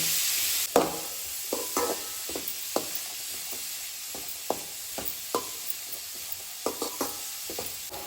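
Green chili and garlic fry with onion in a hot pan, giving a steady hiss of oil with scattered scraping clicks of a spoon stirring. The sound is close and moderately quiet, with no voices.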